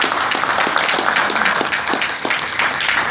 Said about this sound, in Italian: Applauso, attenzione, applauso.